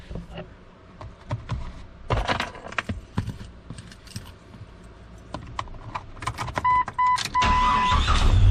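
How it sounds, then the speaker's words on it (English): A 1998 Jeep Cherokee XJ is cranked after a steering gearbox replacement, with clicks and clunks giving way to a rising engine rumble near the end, close by. "So now we'll crank this thing up and see how it does."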